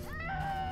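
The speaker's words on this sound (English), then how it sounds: "It sounds like a cat." A single drawn-out cat meow in a horror video game, clear and steady, heard alone without talking.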